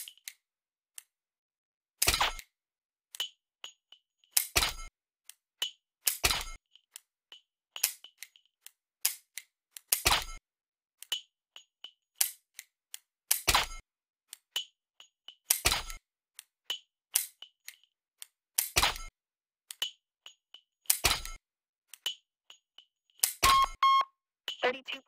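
A laser dry-fire pistol clicks in a series of sharp, separate shots at an electronic target, each followed by a brief beep, spaced a few seconds apart in a quiet room.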